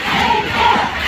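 A concert audience roars loudly in unison for an encore, a close, dense crowd chant swelling across the whole moment.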